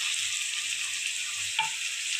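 Fried brinjal with salt, turmeric, chilli powder and cumin-coriander powder sizzles in a pan with an even, close, loud hiss and a single brief stirring clink midway.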